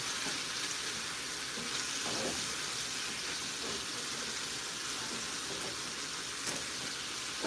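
Noodles cook in a hot pan with a little juice, a steady close sizzle and hiss throughout with faint stirring, no talking.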